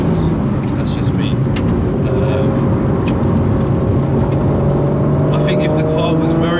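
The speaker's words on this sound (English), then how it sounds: "Hopefully you guys can hear that. Turbo noise." A Nissan Skyline R34 GT-R with a manual gearbox drives loudly from inside the car, its engine droning heavily while rising turbo whine and whistle tones climb steadily in pitch.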